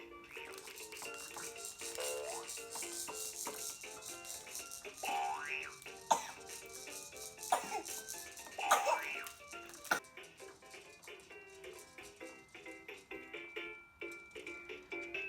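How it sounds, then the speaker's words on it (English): A Fisher-Price Roaring Rainforest Jumperoo baby bouncer plays continuous tinkling electronic music, with springy bouncing sound effects and rattles mixed in, heard close and moderately loud. "The other option plays continuous music but has a bouncing sound effect which comes on when he bounces."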